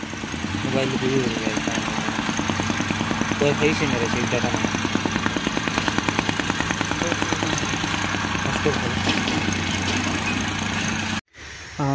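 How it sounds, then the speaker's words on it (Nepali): A vibratory soil compactor thuds in a fast, regular vibrating rhythm close by on a cricket ground, engine droning underneath, before cutting out abruptly near the end. "यहाँको माटोलाई कम्प्याक्ट गर्ने काम भइरहेको छ यो भाइब्रेटर मेसिनले"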